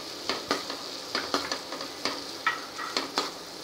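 Chopped ber fruit and spring onions are sautéed in a pan, a steady close sizzle punctuated by a regular run of spatula scrapes and taps against the pan.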